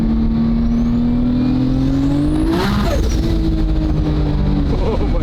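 A 1200 hp Toyota Supra with a 3.2L Dart 2JZ engine accelerates hard on a wastegate pull, a loud rising engine wail climbing through the revs, shifting with a brief dip, then pulling upward again.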